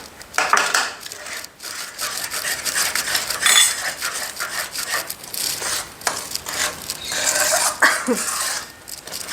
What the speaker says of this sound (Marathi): छान असं मिक्स करून गुटळी होऊ द्यायची नाही बारीक गॅसवर छान असं चांगलं एकत्र करून घ्यायचं